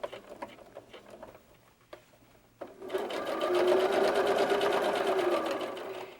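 A sewing machine stitches doll jacket fabric, chain piecing without stopping. Faint ticking comes first, then the needle runs in a steady, fast, even rattle that stays loud and close until the end.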